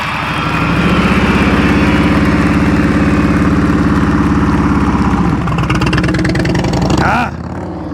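A motorcycle engine idles loudly and close with a steady low rumble, easing slightly before cutting off near the end, leaving silence.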